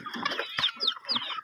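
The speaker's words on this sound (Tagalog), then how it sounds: "ito yung mga manok na makukulit" Chickens cluck and squawk close by in a quick, uneven series of sharp calls.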